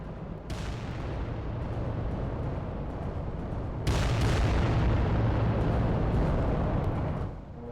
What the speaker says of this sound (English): rockets super inaccurate all over the place